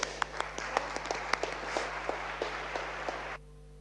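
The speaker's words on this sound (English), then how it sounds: "So please receive him with a warm applause." A small audience at a conference talk on telecenter sustainability gives a brief spatter of applause, loose and uneven claps that stop suddenly.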